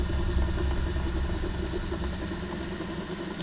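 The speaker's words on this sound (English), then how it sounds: "I can hear the clutch working." Nissan R31 car partway through a manual gearbox conversion, its clutch mechanism working while the engine idles: a steady, loud low rumble with mechanical vibration running continuously, no voices.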